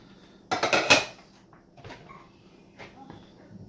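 Italian parsley being mixed into a chicken kabab marinade in a bowl, a burst of clattering utensil-on-dish scraping up front, then a few softer scattered knocks and stirs.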